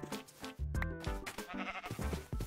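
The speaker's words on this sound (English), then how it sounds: "Hello, sheep." Sheep bleating in Minecraft, with repeated game bleats over busy in-game sounds and music filling the short stretch.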